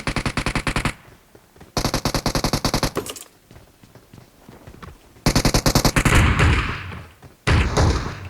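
Automatic weapon fire in the shooter game PUBG Mobile: loud, rapid bursts of shots separated by short pauses, with a longer, denser volley near the end and no talking over it.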